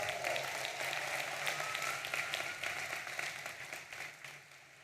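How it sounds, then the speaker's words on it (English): A crowd at a university commencement ceremony applauds the four finalists with steady, dense clapping from a large audience that fades gradually toward the end. "Let's have another round of applause for all of the 4 finalists."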